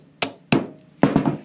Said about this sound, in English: again using a punch and hammer,